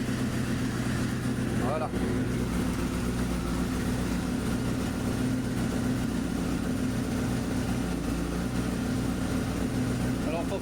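A cold Honda motorcycle engine runs at a steady, low idle close by, a continuous rumble throughout with a brief voice over it.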